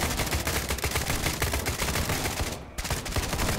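Dense automatic gunfire in an SCP video game, loud and continuous rapid bursts with a brief gap near the end, no talking.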